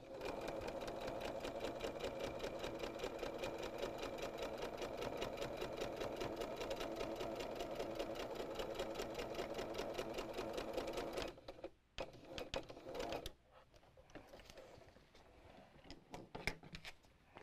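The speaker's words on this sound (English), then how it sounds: "And then we're going to go back and sew." A sewing machine stitches a paper-pieced quilt block in a fast, steady run of needle strokes for about eleven seconds, then stops with a few short bursts and handling sounds.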